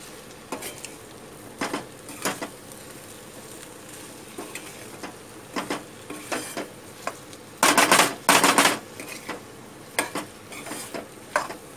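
Okra being stirred in a pan for a Maharashtrian bhendi bhaji, a spoon scraping and clattering against the metal in repeated bursts, with a louder stretch of vigorous stirring midway and faint sizzling underneath.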